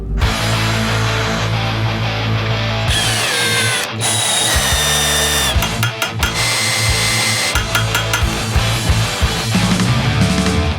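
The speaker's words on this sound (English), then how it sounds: "So I'm gonna start drilling it out" A power drill whines loudly and continuously up close, its pitch shifting and stuttering as it drills out a metal bolt on a BMW E46 M3, with brief pauses between runs.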